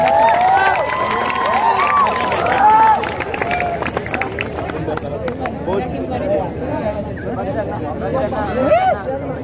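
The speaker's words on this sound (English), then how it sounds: "Please guys, give a huge round of applause" At a college freshers' party, a crowd claps and cheers for the chief guest, steady loud applause mixed with whoops and excited shouting, with a voice calling out over the din.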